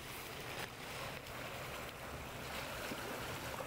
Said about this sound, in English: I just love hearing the water sound on the doors.